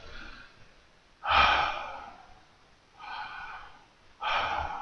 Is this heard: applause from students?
no